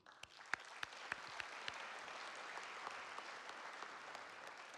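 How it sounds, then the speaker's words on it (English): Scholarship luncheon guests applaud together, a soft, distant wash of many hands with a few sharper nearby claps standing out at the start. "One more round of applause for all of them."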